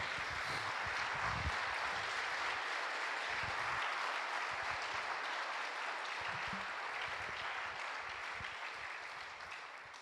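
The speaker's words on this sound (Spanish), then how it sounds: "¿Puedo pedirles que le den un aplauso al Señor?" A church congregation applauds in a steady, even wash of clapping that holds for several seconds and then begins to fade, with no talking over it.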